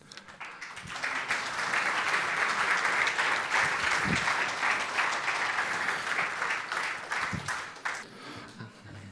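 An audience at a talk breaks into applause: a dense, even wash of many hands clapping that swells quickly, holds steady for several seconds, then tapers off toward the end.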